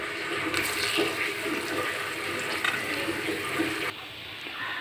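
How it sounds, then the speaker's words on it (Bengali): Chopped onion, green chilli and two or three bay leaves sizzling in hot raw mustard oil: a steady, loud hiss that holds for most of the time, then drops slightly near the end, with no talking. "তেলের মধ্যে সবার প্রথমে দিয়ে দিচ্ছি পেঁয়াজ কুচি, লঙ্কা কুচি এবং 2-3টে তেজপাতা।"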